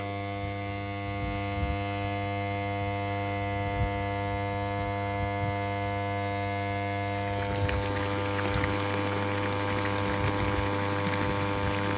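Steady electrical pump hum with a constant drone from a pond pump, and water starts splashing and pouring from the hose partway through, growing busier toward the end.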